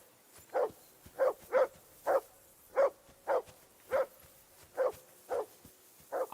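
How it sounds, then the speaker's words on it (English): A dog barks repeatedly in Kingdom Come Deliverance 2, ten or so sharp, fairly close barks at an uneven pace of roughly one per half second, with no talk over them. "I assume you can hear that damn dog of yours barking."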